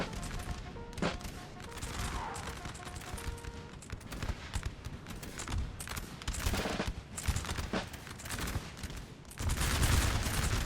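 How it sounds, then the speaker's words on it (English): Field gun firing canister shot in Napoleon: Total War amid crackling musket volleys, a steady battlefield clatter of scattered sharp reports, with a heavier rumble near the end. "I do have my field gun set up and firing out canister"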